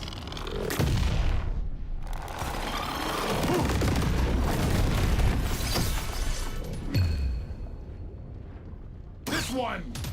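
Minigun fire in The Division 2, loud bursts of heavy automatic shooting with booming impacts and brief gaps between volleys, mixed with other game effects.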